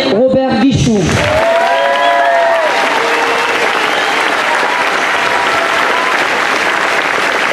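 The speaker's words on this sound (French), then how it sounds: "Merci d'applaudir Robert Guichou." Enthusiastic audience applause at the Fête de Bessan festival, loud and dense crowd clapping that swells right after a short announcement and continues steadily.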